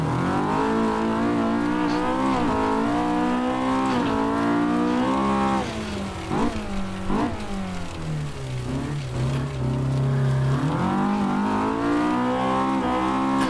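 Honda K20 engine in an Axfor ProPulsion S2 Junior car in Assetto Corsa, revving hard with rising and falling pitch sweeps through gear changes, loud and continuous.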